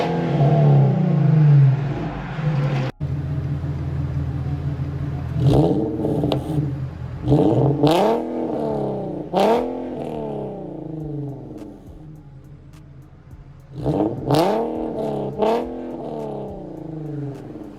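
Infiniti Q50s engine with a cheap test pipe and muffler delete exhaust, revved repeatedly: several sharp blips rise and fall over a loud idle, close and alone.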